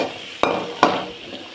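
Onions sauté in oil, sizzling steadily in a pan, with two sharp stirring scrapes that briefly flare the frying hiss before it settles back.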